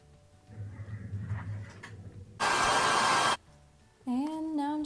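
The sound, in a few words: hair dryer blow drying hair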